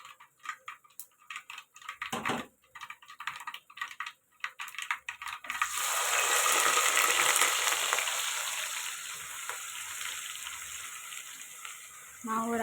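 Chopped onions go into hot oil with popped mustard seeds for a brinjal and drumstick kara kuzhambu: after several seconds of tapping and clatter, a loud, close, sustained sizzle erupts and then settles slightly.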